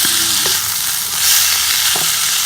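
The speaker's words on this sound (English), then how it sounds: "now, we're going to saute our bacon and onions" Bacon, onions and garlic sauté loudly in a pan, giving a continuous dense sizzle with a few faint clinks, close up.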